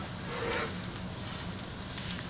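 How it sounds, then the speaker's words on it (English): Tuna steak in a hot pan flipped over beside a reducing wasabi sauce, giving a steady, moderately quiet sizzle and frying hiss throughout, with no voices. "let's go ahead and flip our tuna over."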